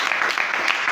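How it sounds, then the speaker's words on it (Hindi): A brief burst of audience applause at a spoken talk, a dense, fairly loud patter of clapping lasting about a second. "इनके लिए एक जोरदार ताली"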